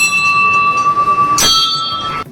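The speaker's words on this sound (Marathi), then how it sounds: "घंटी वाजवून घेतो." A metal temple bell at Mahakaleshwar in Ujjain rings loud and close, its bright tone sustaining for about two seconds, with one fresh strike partway through before the ring cuts off.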